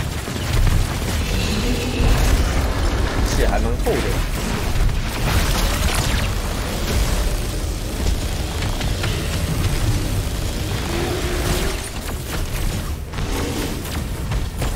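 Bombing explosions in the mobile game Earth: Revival: a loud, dense barrage of booms and bursts rolling on continuously for several seconds, with a brief spoken remark partway through.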